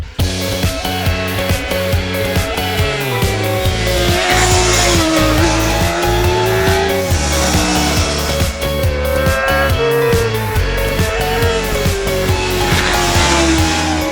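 Solo racing motorcycles roar along a winding road during a motorcycle tour rally, engines loud and close with rising and falling revs through gear changes as bikes pass continuously.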